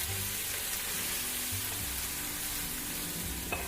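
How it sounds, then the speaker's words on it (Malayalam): Grated carrot hits hot ghee in a pan with a steady, close sizzle and frying crackle that holds throughout, with faint stirring scrapes near the end. "നെയ്യൊന്ന് ചൂടായി വന്ന അതിലേക്ക് നമ്മൾ ഗ്രേറ്റ് ചെയ്ത് വെച്ച ക്യാരറ്റ് ചേർത്ത് കൊടുക്കാം."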